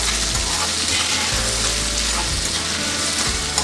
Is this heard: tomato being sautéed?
yes